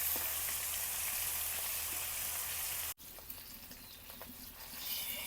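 Dried shutki fish sizzles in a pan of oil, a continuous crackling hiss that cuts out briefly mid-way, then resumes with some scraping and stirring over the frying.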